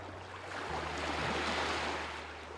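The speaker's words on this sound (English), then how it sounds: "There's just something about the sound of ocean waves that immediately makes me feel better" Ocean waves wash in a steady, broad roar that swells gently through the middle and eases off toward the end, with a low steady hum underneath and no voices.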